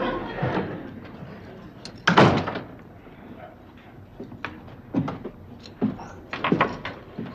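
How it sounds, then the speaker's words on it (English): A door slams once, a sharp loud bang in the middle of a room with scattered movement and low voices around it, followed by a few smaller knocks. "I heard the door slam."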